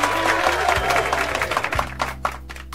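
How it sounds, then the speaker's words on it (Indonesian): An audience at a company employee-information system pre-launch applauds in a dense burst over a low background hum, then thins to scattered individual claps near the end. "Oke, tepuk tangan untuk Bu Tia ya."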